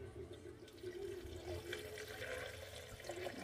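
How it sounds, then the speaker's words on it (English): Water poured into a cooking pot while making enchiladas, a soft continuous splashing and gurgling stream, fairly faint over a low kitchen background. "I just put a little bit of water."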